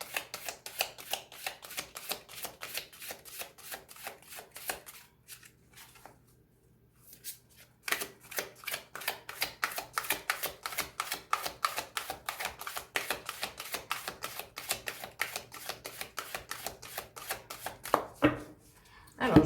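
A deck of oracle cards is shuffled by hand, making rapid, close riffling and slapping clicks in long runs broken by a brief pause, and a soft voice speaks under it at times.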